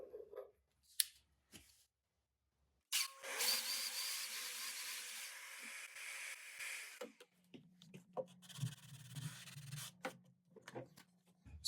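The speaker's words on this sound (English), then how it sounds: "That way I don't oversand areas that don't need more sanding." Hand sanding along wooden miter joints, a steady dry scraping rub lasting several seconds, followed by softer intermittent rubbing strokes and light handling noises, with no talk.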